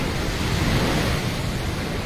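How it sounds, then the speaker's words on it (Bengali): Storm-surge waves at Digha beach pound against the sea wall, producing a dense, continuous roar of surf mixed with wind buffeting, loud and unbroken with no voices. "একটা বড় ঢেউ আছে দেখি গাড়োয়াল টপকাতে পারে কিনা"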